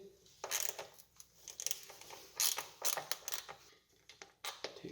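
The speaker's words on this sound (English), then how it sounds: "I'm going to be using a 10mm socket, a ratchet, and an extension." A 10mm socket on a ratchet with an extension works a seat bolt on a Yamaha TW200 motorcycle, giving bursts of quick metallic clicking and rattling with short quiet gaps between strokes.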